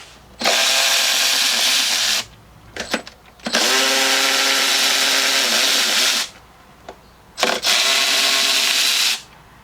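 A power tool zips 10mm nuts off the intake manifold studs of a 2018 Jeep Grand Cherokee with a 3.6L Pentastar engine: three loud, sustained whirring runs of a few seconds each, separated by short pauses with brief clicks and rattles.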